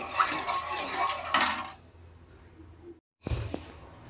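A spoon clinks and scrapes around a pot of sugar syrup for motichur laddu, a busy clattering burst for a second and a half, then quiet, then a brief final knock of metal near the end.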